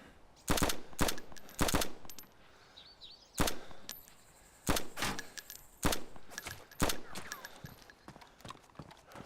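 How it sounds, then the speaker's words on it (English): M4 rifle fire in the DayZ Alpha video game comes as sharp, loud single shots and short bursts spaced irregularly, each a hard crack with a brief tail, with no talking over it. "Let's hear that M4."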